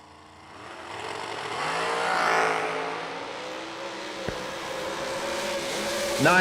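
Race cars in a side-by-side drag race at an ACE Triple $20's event, engines droning and rising steadily as they run down the strip, with a sharp crack near the end and a commentator faintly talking over the noise.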